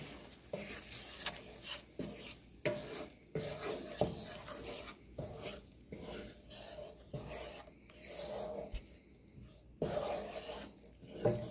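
Shakshuka in a pan being stirred to work in added salt and pepper, with repeated scraping utensil strokes over a soft sizzle, close and fairly quiet.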